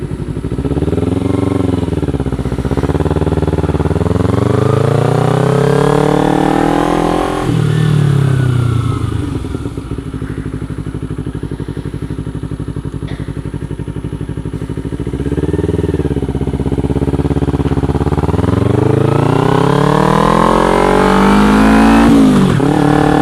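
A motorcycle engine is ridden close by, loud and continuous, with repeated rising revs as it accelerates through the gears, dips between shifts, and then builds again.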